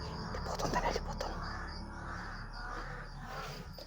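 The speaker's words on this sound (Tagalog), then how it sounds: "Ito sobrang ingay ng mga uwak." Crows cawing noisily in a rural Philippine outdoor setting, harsh calls repeating through the clip amid background ambience and faint voices.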